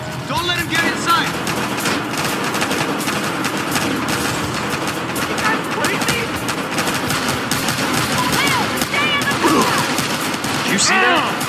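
Rapid bursts of gunfire in Battlefield Hardline rattle continuously amid explosions and clatter, with voices talking over the dense, chaotic action.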